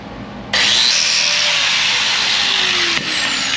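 A power tool cuts the end of a car's outer body panel in a continuous loud, harsh whine that starts abruptly and holds steady for about three seconds, with a slight change near the end and no talk over it.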